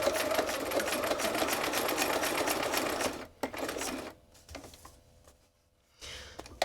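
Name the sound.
sewing machine stitching a bookmark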